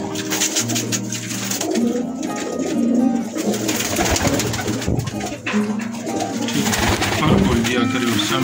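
Several flying pigeons, males and females, coo in repeated low, throaty phrases close by in a rooftop loft, while people talk in the background.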